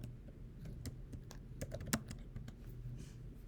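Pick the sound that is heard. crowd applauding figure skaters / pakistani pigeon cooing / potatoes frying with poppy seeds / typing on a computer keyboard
typing on a computer keyboard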